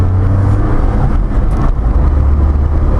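A 1988 Honda Acty kei pickup with a 3-cylinder 550 engine drives and accelerates, its loud steady engine drone and road noise filling the cabin without pause.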